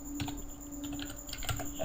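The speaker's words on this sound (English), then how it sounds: "Then I type head." Someone types HTML on a computer keyboard, a short burst of close, soft key taps in an uneven rhythm with no talking.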